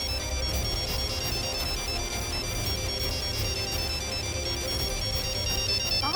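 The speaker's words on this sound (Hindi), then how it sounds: "बेल बज रही है।" A phone ringtone plays continuously, a steady repeating electronic melody at moderate volume with no one speaking.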